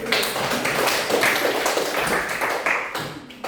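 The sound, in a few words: applause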